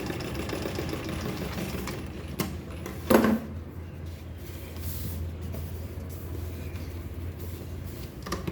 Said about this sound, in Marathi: त्याला ना म्हणून पूर्ण चारी बाजूने स्टिच करून घेते.